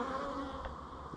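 Honey bees buzzing continuously while honey frames are pulled from a hive outdoors in cold weather, a steady close hum with a few louder passes near the microphone.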